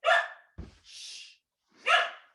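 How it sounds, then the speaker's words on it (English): A pet dog barks along with a song during a music lesson, giving a couple of loud, close yelping barks separated by a brief pause, with a soft breathy sound between them. "she's barking along with the song"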